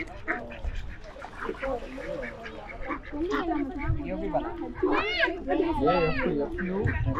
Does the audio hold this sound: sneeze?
no